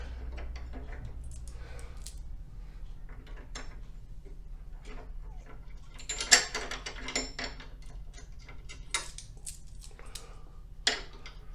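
A ratchet tightens a bolt on a Harley-Davidson Street Glide rear fender, a faint quick clicking and light metal handling close by over a low steady hum, with a few sharper knocks.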